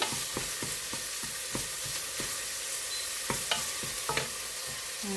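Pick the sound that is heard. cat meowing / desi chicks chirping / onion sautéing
onion sautéing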